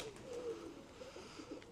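Pigeons coo softly inside a loft during breeding season, with low, faint, rolling calls repeating in gentle bursts, no voices.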